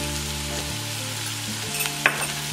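Sambharo vegetables with salt, turmeric and a little sugar are gently toasted in a pan, giving a steady close sizzle with faint stirring scrapes and one small clink, with no talking.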